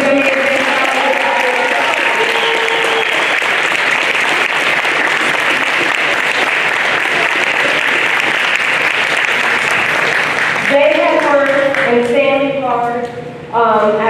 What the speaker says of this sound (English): can we please do another round of applause for the amazing